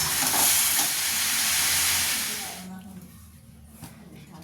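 Pumpkin curry with fried papad sizzling and frying in a pan, a loud broadband hiss that fades after a few seconds into a quieter simmer, with voices talking faintly underneath.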